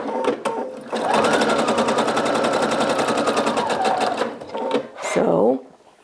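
A sewing machine runs steadily while chain piecing jelly roll quilt strips, a close, fast even stitching rattle lasting several seconds, with brief starts and stops at either end.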